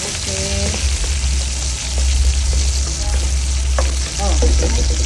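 Onion sautés in a pan for pork with fermented black beans, a loud steady close sizzle with light stirring scrapes throughout, no voices heard.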